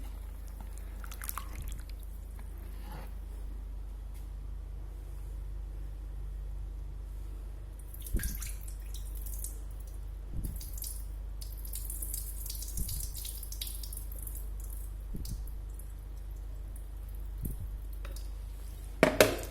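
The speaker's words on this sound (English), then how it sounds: "I'm giving it a rinse." Tap water runs steadily into a bowl while sabudana (tapioca pearls) is rinsed by hand, with occasional soft splashes and squishy handling sounds over a constant low flow.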